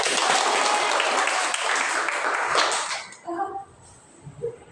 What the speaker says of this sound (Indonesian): beri aplaus kepada Nur Jamila